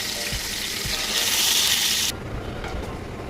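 Chitol fish pieces fry in hot oil in a pan, a dense close hiss that swells louder for a moment, then drops to a lower crackle with a few soft knocks and scrapes.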